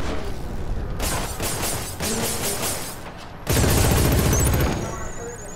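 A turret in the shooter Killzone Shadow Fall fires rapid repeated bursts, with a loud sustained volley near the end, amid busy combat effects and sparse voice.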